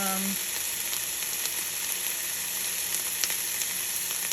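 Stinging nettles stir-fried with wild leeks in a pan, a steady close sizzle and crackle of frying greens holding at an even level throughout, with a few faint stirring clicks and no talking.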